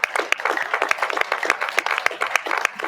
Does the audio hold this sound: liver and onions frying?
no